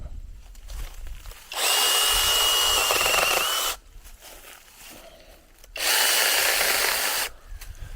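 A small 6-inch pruning chainsaw cuts low limbs off a young walnut tree in two loud, steady bursts of about two seconds each, with quieter gaps between the cuts.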